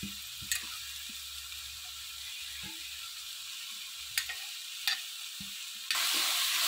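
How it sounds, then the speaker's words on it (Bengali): A spoon or spatula works through carrot halwa with grated khoya in a pan, giving soft scraping and a faint sizzle with a few sharp clinks, ending in a louder hiss. "খোয়া ক্ষীরটা দিয়ে সুন্দর করে গাজরটা নেড়ে চেড়ে নেব।"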